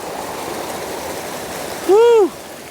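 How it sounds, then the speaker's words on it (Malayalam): Water from a waterfall behind a temple in Kerala pours in a constant close rushing murmur. Near the end a short rising-and-falling voiced tone cuts in briefly above the flow. "ഈ വെള്ളം ഒഴുകി ഇങ്ങനെ വന്ന് ഇതിലേ കൂടി ഇങ്ങനെ അങ്ങ് പോകും"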